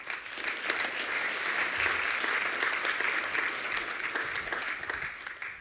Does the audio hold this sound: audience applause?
yes